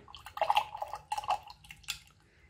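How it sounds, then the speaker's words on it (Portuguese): A paintbrush is swished and rinsed in a small container of water, giving soft, close splashes and dripping bursts in an uneven rhythm, fairly quiet with no talking. "Então, eu lavo o meu pincel."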